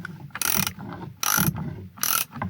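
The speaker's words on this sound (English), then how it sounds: "And here we are with the torque wrench" A torque wrench ratchets on a retaining nut of a squarebody truck's turn-signal assembly, three short, close clicking bursts in an even rhythm with no talking.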